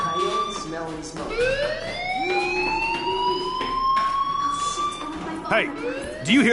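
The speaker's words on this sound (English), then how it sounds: "Hey, do you hear that fire alarm?" A fire alarm wails inside the video game Life Is Strange, with rising electronic siren tones that sweep upward and repeat, loud and continuous, while a voice talks over it.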